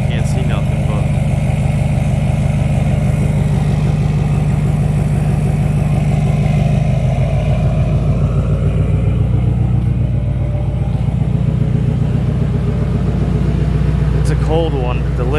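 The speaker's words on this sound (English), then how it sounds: "The lift pump's grinding away." A diesel LML truck starts cold with a steady, loud engine rumble and a continuous grinding drone from the lift pump, close by throughout, with a voice talking over it.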